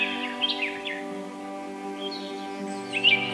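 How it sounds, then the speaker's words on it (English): A macaw, a long-tailed New World parrot, gives a few harsh squawking calls near the start and again near the end, over a steady electronic hum. "Macaw."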